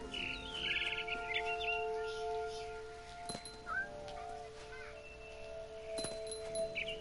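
Short high twittering chirps from a barn swallow in What Remains of Edith Finch, clustered early then sparse, faint against sustained musical tones and a quiet ambient bed.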